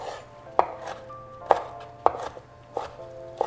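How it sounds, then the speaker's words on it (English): A knife chops chiles on a cutting board in five sharp, evenly spaced strokes, close and clear against a quiet background. "now we're just going to chop them."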